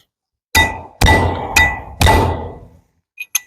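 Four loud, evenly spaced metallic hammer blows ring out close by on a 7000 axle bearing, each strike decaying into a short ring, followed by two light taps.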